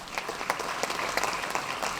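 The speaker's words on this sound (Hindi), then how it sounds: "उनके लिए जोरदार तालियां।" Audience at an International Youth Day gathering breaks into a short round of applause, a dense patter of clapping with a few sharp, closer claps and no speech.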